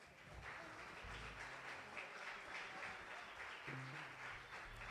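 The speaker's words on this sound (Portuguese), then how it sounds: "Vamos recebê-lo com aplauso." A church congregation at a Sunday afternoon service claps to welcome Bishop André Leal, a steady, fairly faint wash of applause throughout.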